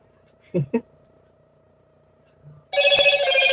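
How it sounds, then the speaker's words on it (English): A phone rings suddenly and loudly near the end, a dense bright ringtone cutting in after a short quiet stretch with a couple of brief low thumps earlier; no talking over it. "sorry about that. That's my phone."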